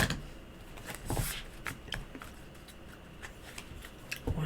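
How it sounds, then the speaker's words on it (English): Tarot cards are shuffled by hand in a quiet room, giving sparse, soft riffling clicks and taps in irregular bursts, close and faint. "One more shuffle."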